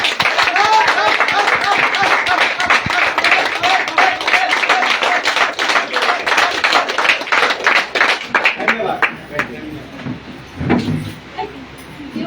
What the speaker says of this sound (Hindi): दो बात आप लोग धन्यवाद, जोरदार ताली।